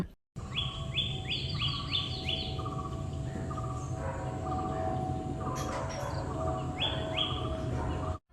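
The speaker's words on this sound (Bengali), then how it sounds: "আপনারা একটু পাখিদের কথা শুনুন" Birds sing in a garden house picnic spot near Kolkata, with repeated bright chirping phrases in several short bursts over a constant low hum and faint insect buzz, with no talk.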